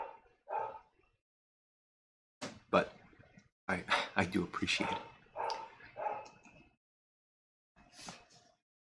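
A dog barks in short bursts, near and fairly loud, with a person talking quietly between the barks.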